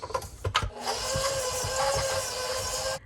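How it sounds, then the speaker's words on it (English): A stand mixer running on protein cookie dough with peanut butter, a steady motor whir that follows a few short knocks and then cuts off abruptly near the end. "And now to the stand mixer."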